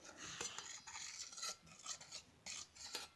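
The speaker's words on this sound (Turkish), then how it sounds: "Kaplumbağa hızında karıştırıyorum." A slime mixture in a glass container being stirred slowly, quiet scraping and rubbing strokes in uneven pulses, close and soft with no talking.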